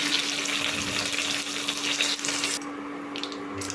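Cumin seeds, curry leaves, asafoetida and dried red chili crackle in hot oil with a busy, close sizzle that suddenly softens partway through to a quieter simmer.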